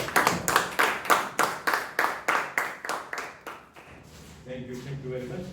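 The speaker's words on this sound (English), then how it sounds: "round of applause" A small group claps in a slow, steady unison rhythm at a Toastmasters meeting, welcoming the next speaker. Roughly a dozen crisp, evenly spaced claps are followed by a fading pause, and then a voice starts to speak.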